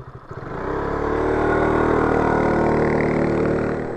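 A motorcycle engine with a baffled exhaust rises to a loud, steady drone, holding close and strong for several seconds before easing off slightly at the end.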